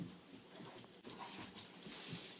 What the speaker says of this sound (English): These are my two puppy dogs.